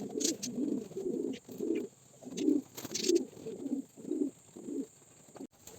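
Pigeons kept in a loft coo in a steady run of low, rounded, repeated calls, close by and fairly quiet, with a faint high hum in the background.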